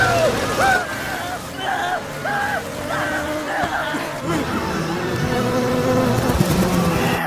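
Swarming bees attack people in a killer-bee horror film, a dense insect buzz running throughout over a busy mix of music, tonal whines and background noise.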